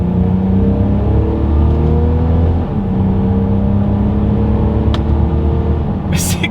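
A 2022 Mercedes-Benz GLC 300 Coupe in Sport Plus mode pulls hard from a standstill, its engine rising in pitch through several upshifts, loud and close from inside the cabin, with a brief click near the end.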